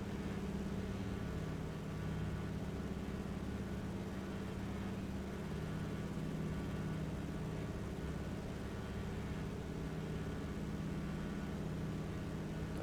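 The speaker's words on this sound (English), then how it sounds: "Big radial engine." Steady, even drone of the big radial engine of a de Havilland Beaver floatplane in the DCS flight simulator, a faint, constant hum with no variation and no voices.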